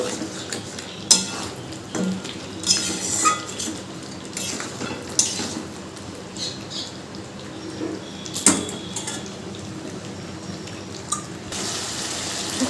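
A spoon works fried potatoes into a desi chicken curry in a pan, making scattered scraping clinks and soft wet stirring sounds at an uneven pace against quiet kitchen background noise, with no one speaking.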